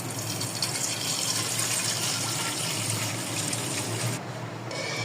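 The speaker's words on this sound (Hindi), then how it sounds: "इसमें मैं पानी डालूंगी" Water gushes steadily from a tap into a cooking pot for cumin rice, a loud, continuous splashing pour that runs the whole time and eases slightly near the end, with no talking.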